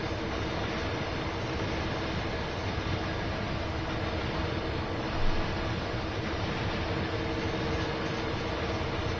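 Mixed freight train of boxcars, tankers and covered hoppers rolling past in Train Sim World 2 on Sherman Hill, a steady broadband rumble and wheel noise that holds evenly throughout, with a small bump midway.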